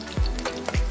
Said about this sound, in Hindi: कढ़ाई में तेल गरम हो रहा है। अब हम इसको एक एक करके डालेंगे।